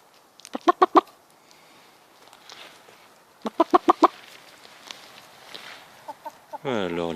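Hens cluck in a shared community garden in repeated bursts of short, close calls, with quieter sounds and a soft voice between the bursts.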